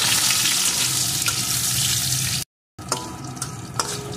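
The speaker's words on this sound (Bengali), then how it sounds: "এখন এর ভিতরে দিয়ে দেব একটা কেটে রাখা টুকরো করে আলু। আলুটাকেও একটু ভেজে নেব।" Cut potato pieces fry in a pan with a dense, close sizzle. After a brief gap the sizzle returns quieter, with a few sharp stirring clicks and scrapes. No one talks.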